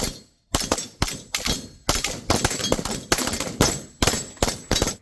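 A handgun fires about ten sharp, loud shots in uneven rapid succession during a training drill, emptying the rest of the magazine, each crack ringing briefly before the next.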